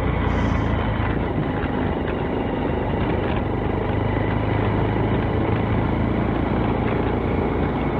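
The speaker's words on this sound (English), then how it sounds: "riding along gravel roads like this, it's actually what I prefer doing" A Honda CB125F motorcycle rides along a gravel road, its small engine a steady, continuous drone mixed with dense rumble and wind noise, loud and close throughout with no talking.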